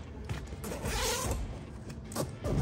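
A zipper being drawn along the zippered document pocket of a 5.11 SOMS tactical travel bag, a close, continuous rasping pull lasting a couple of seconds with a brief pause partway through.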